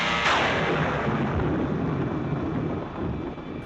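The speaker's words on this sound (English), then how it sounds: "Well, another stormy weekend." Thunder rolling through a stormy night with rain, a sharp crack near the start giving way to a long, loud, steady rumble that fades slightly at the end.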